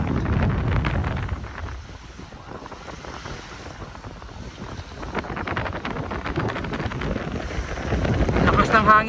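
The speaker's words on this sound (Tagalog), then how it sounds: "Lakas ng hangin talaga," Strong seaside wind buffets the microphone in heavy, rumbling gusts that swell louder toward the end, with faint talk partly buried beneath the roar.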